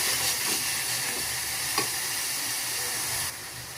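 Chopped tomatoes go into onions frying in a pan for a tomato sour dish, bringing a steady bright sizzle with a faint stirring knock partway through. The hiss softens slightly near the end, and no one speaks.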